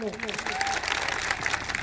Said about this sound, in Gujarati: એમના માટે એકવાર જોરદાર તાળી પાડી લો